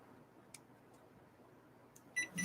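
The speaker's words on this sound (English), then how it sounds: "Beep beep beep beep beep beep beep." A rapid run of high electronic beeps near the end, loud and close, following a quiet stretch with a few faint ticks.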